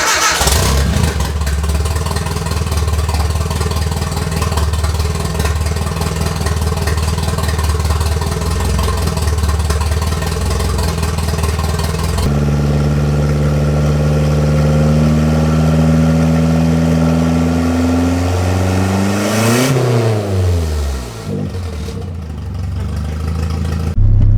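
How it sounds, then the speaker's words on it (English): A Nissan 240SX with a turbo engine cranks and runs loud and close, a steady rough idle, then the revs sweep up and drop back before settling. "We're going to turn it over, see if we get oil pressure at the turbo"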